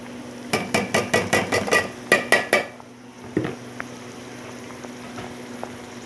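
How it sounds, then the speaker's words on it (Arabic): Green beans tipped into a pot holding onion and lamb give a rapid run of sharp metallic clatters and knocks, then a pause and a few softer clinks over a low steady hum, close by with no voice. "هسه حدير الفاصوليا."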